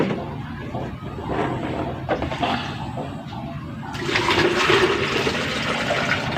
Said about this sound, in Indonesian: Nah, ini masukkan airnya. Ya, masukkan saja.